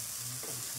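Mango pieces and sugar are stirred in a pan while making pickle, giving a close, low sizzle with a brief scrape of the spoon partway through.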